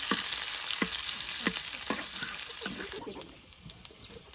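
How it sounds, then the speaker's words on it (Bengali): Whole spices sizzling in hot oil for a dal tempering (baghar) in a home kitchen, a bright crackling hiss with several sharp spatter pops early on, gradually settling and fading. "এই যে এখন ডাল বাগার দেওয়া হবে।"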